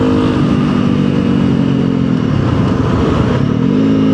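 Honda CRF300L motorcycle engine with a stage 1 ECU install, droning loud and close with steady revs that dip slightly midway and climb again, continuous throughout with no voices.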